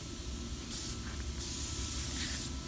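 Two short bursts of hissing from an aerosol wax spray can, spraying close by onto a laminate countertop over a low background hum.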